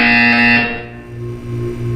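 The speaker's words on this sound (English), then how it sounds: "When you hear the buzzer, look down at the floor." A buzzer in the video game Portal 2, a loud harsh electronic drone that cuts off after about half a second, followed by a lower humming synthetic tone that swells and dips.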